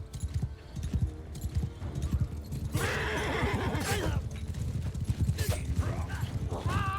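A video-game horse whinnies loudly over a steady, close clip-clop of hooves, with creaking tack mechanisms and a voice speaking over parts of it.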